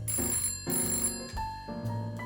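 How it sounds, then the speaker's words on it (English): A telephone rings out in a steady series of bell-like bursts, a sound effect in a children's Thanksgiving read-aloud, heard clearly with no one talking over it. "The phone rang."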